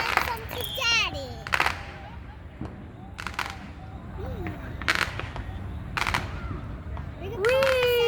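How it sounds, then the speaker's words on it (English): Fourth of July fireworks at the Crow's Nest in Venice, a series of sharp bangs and crackles about a second apart, moderately distant, under a busy crowd with children chattering and calling out. "Just in time to get some fireworks."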